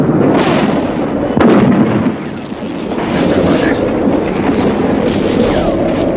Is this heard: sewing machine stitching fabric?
no